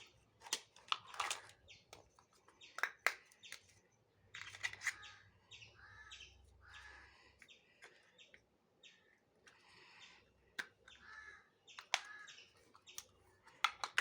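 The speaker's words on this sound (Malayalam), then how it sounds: "ഇവിടെ നല്ല കിളിയുടെ ഒക്കെ സൗണ്ട് കേൾക്കാണ്ട്." Birds chirping outdoors in quick, faint bursts of high tweets scattered across a quiet background, with small clicks and clatter nearby and no talk.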